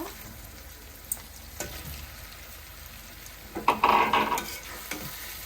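Masala for a katla fish and peas curry sizzles in a pan while it is stirred and scraped. Sharper clatter and louder sizzling come near the end.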